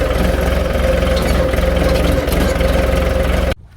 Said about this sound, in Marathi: काका म्हणलं ट्रॅक्टर घराकडे घेऊन या.